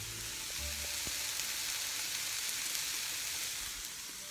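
Onions sizzle and crackle steadily in a hot pan, a soft continuous hiss with scattered pops, heard up close with no talking.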